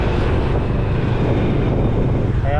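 A loud, steady rush of wind buffets the microphone, a continuous low roar with no pauses throughout.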